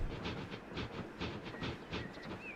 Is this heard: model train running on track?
yes